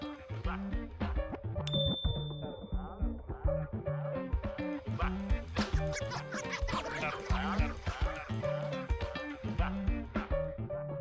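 A single bright bell ding rings out briefly near the start, sitting over continuous music with a steady beat that keeps playing throughout.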